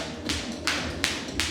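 A jump rope slaps the floor in a steady rhythm during a full-body workout, four sharp taps about a third of a second apart, close and clear.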